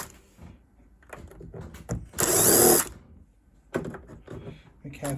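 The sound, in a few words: unscrewing the screws holding the computer's back cover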